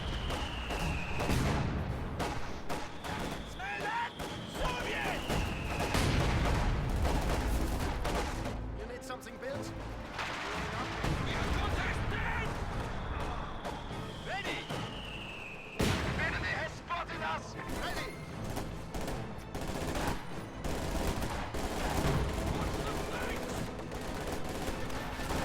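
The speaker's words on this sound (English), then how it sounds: "There's an ML-20 in his base, and it's firing on Red Wings' defensive line here" ML-20 artillery and mortar fire in a strategy game, repeated heavy shots and blasts thudding throughout alongside crackling gunfire and whistling shells, with a commentator talking steadily over the battle.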